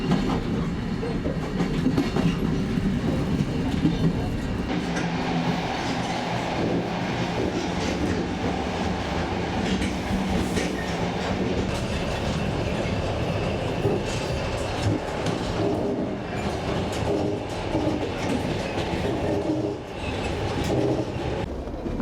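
A Trans-Mongolian railway carriage rolls steadily along the rails, with a continuous loud rumble and rhythmic clickety-clack from the wheels and faint squeals, heard from inside the train with no talking.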